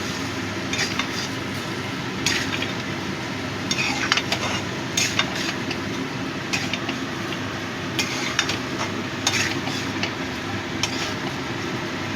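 Ginger and cumin paste frying in a pan for a prawn malai curry, a continuous sizzle broken by repeated scraping and stirring clinks of a utensil against the pan, close and without speech.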